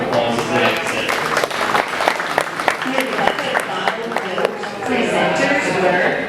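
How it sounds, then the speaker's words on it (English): Steady applause from a crowd at a 4-H and FFA meat goat show at a county fair, dense clapping that holds for several seconds with brief voices mixed in. "Let's give them another nice round of applause as they exit."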